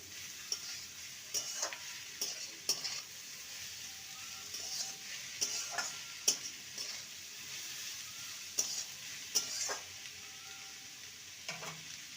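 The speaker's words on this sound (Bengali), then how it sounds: "বাঁধাকপিটাকে ভালো করে ভেজে নেব লটু মিডিয়ামের মাঝামাঝি রেখে" Shredded cabbage fries in a pan over medium-low heat, a soft steady sizzle broken by irregular scraping stirs from a spatula, close and fairly quiet, with no voices.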